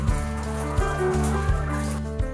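BV380 laying hens kept in high-tech cages on a farm in Trivandrum, Kerala, murmur and cluck in a steady, dense chorus broken by a few sharp knocks.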